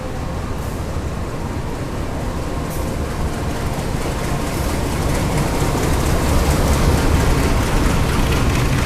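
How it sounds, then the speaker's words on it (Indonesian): The Senja Utama Jogja passenger train pulling into track 4 at Kroya station, a loud continuous rumble and rattle of wheels and cars rolling steadily close by. "Ini kereta api Senja Utama Jogja sudah masuk di jalur 4 stasiun Kroya."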